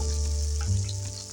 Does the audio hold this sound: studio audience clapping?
no